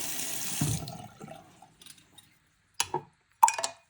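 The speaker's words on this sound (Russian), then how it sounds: "Щавелевая кислота, горячая вода." Hot water pours into a container for an oxalic acid soak of a dug-up Opel badge, a steady rushing splash in the first second that fades, followed by a few close clinks and knocks, with no talking.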